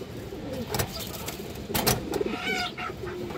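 A female pigeon at a Bangladeshi pigeon seller's coo in a few low, soft bursts, fairly close, with a faint passing car in the background.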